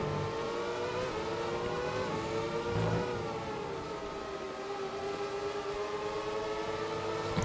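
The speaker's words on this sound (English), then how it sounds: "These cars do sound very aggressive." Formula 1 racing cars in the F1 2020 video game on the Austria circuit, engines howling with rising and falling revs, wheel to wheel, a continuous aggressive whine that dips mid-way and climbs again.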